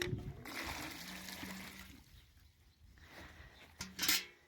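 Room-temperature soaking water drains off sprouting garlic cloves, a soft trickle and pour that fades into quiet, followed by a brief louder splash near the end, close and faint.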